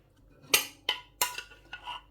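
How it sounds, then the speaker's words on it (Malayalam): A metal ladle strikes a cooking pot during chicken mandi preparation: four or five distinct bright clinks in an uneven rhythm, close and clear against quiet surroundings. "ജസ്റ്റ് അത് കോരിയൻ്റെ ഒരു ശബ്ദമാണ് കേട്ടോ."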